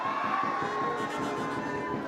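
Steady applause and cheering from a large crowd fills the space, dense and continuous throughout.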